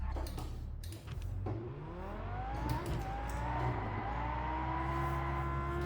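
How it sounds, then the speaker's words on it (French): Video game car engine revving through gear changes during a drift test, a steady rising and falling whine with tonal harmonics sweeping upward, fairly close and without talk. "Le test du drift."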